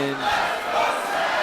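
Wrestling audience at a no-holds-barred match cheering and shouting together, a loud sustained roar of many voices filling the arena.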